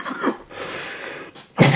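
Rough coughs break out near the start and again at the end, with a muffled pause between them, close and fairly loud.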